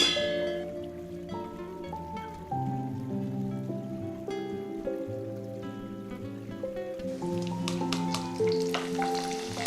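Hidukidabele lentils deep-frying in hot oil, a steady close sizzle with bubbling crackle that rises in intensity partway through, alone without talk.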